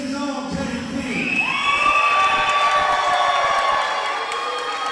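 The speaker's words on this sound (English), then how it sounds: "he'll take the applause nonetheless" A wrestling crowd cheers and applauds for wrestler Teddy King, loud sustained whoops and shouts from many voices rising and holding steady throughout.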